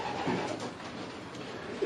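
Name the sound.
pigeon cooing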